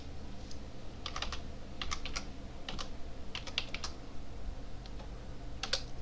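Computer keyboard keys clicked in short clustered bursts while typing an options ticker, ending with the Enter key pressed; crisp, close clicks over a low steady room hum.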